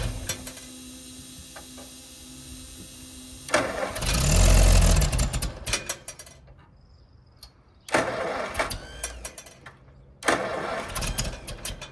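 An Oliver tractor that sat two days in the rain cranks and catches in several attempts, loud and close, with pauses and ticking between tries.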